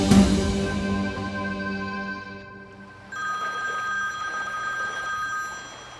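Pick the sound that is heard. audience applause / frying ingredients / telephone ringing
telephone ringing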